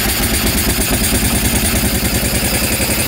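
Small engine of an old barn-find mini bike that sat unused for over twenty years, running loud and close with a fast steady chugging putter and uneven clattering beat throughout, no voices.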